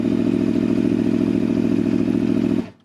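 A 2020 Aprilia Tuono 1100 RR V4 with an Akrapovic exhaust runs close by with a loud, even, throbbing rumble, then cuts out and falls silent in the final moment.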